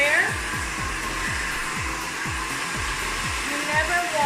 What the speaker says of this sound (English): covering my blow dryer.